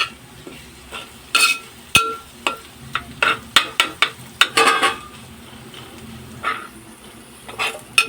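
A spoon stirs mutton kurma with green chillies in a pot, making irregular metal clanks and scrapes against the pot, with a few sharp knocks and quiet gaps between strokes.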